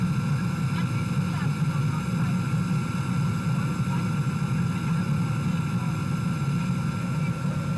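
A small plane bound for Jomsom, Nepal, drones steadily from inside the cabin, a continuous low engine roar with a tonal hum throughout, with no other sounds standing out.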